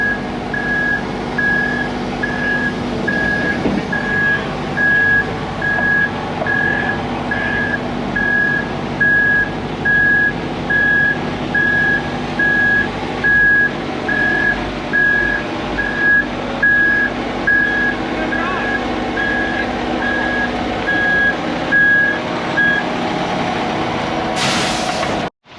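An old Volvo truck reverses at a rural basement dig site, its backup alarm beeping steadily in an even rhythm for most of the stretch over a constant diesel engine rumble, loud and close.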